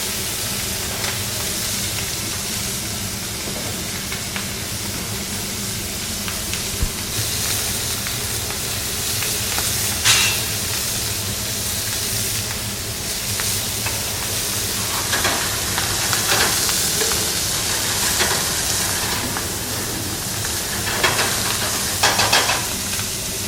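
Steady loud sizzling of lasagna sauce frying in a pan, a dense continuous hiss with crackles and spits throughout, close and unbroken for the whole stretch.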